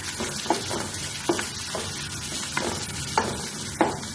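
Onions frying in a pan, a steady dense sizzle broken by several sharp scraping stirs at irregular intervals, close and fairly quiet.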